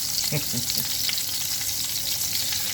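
Shrimp frying in a pan, cooked about two and a half minutes per side for a cheesy shrimp and sausage penne alfredo, give a steady close sizzle with a few soft stirring knocks early on; no one speaks.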